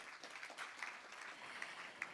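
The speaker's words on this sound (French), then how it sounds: "Est-ce qu'on peut l'applaudir pour nous visiter?" Scattered applause from a church congregation welcoming a visitor, fairly quiet and thin, with a few sharper claps standing out against the soft wash.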